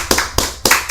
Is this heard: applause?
yes